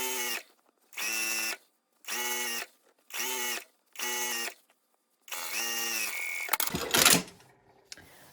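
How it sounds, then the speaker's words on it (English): Sewing machine stitching two jeans pieces together at a 5/8 inch seam, five short bursts of close, loud whirring separated by pauses, then one longer run ending in handling rustle. "I'm really quickly just going to sew these two together at 5/8 inch seam allowance"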